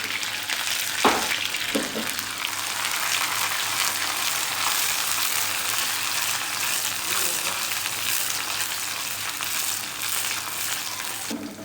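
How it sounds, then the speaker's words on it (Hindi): Browned onions sizzle in hot oil with chopped coriander, green chilies and ginger added, a constant crackling fry with a few sharp stir clatters near the start. "प्याज को फ्राई होने देंगे।"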